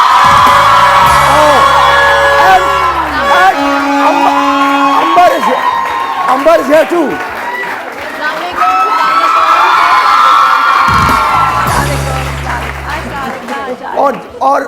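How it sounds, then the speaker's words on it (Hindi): Applause and cheering from a studio audience on a Hindi morning TV show, a loud crowd with whoops and shouts layered over music and amplified talk from the host. "बहुत सारी तालियां बिनीता के लिए।"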